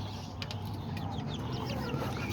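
A small black hen clucks in a backyard coop, soft intermittent clucks and chirps over a steady low background, fairly close and with no talking.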